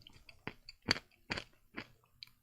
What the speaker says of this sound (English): Man, it is real crunchy snack